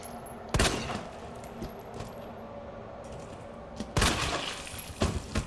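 Gunfire in the survival horror video game Resident Evil 2, set in a police station: several sharp, loud shots, one near the start and a cluster toward the end, over a low game ambience.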